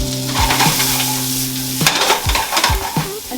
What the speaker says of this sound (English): And then we're just gonna saute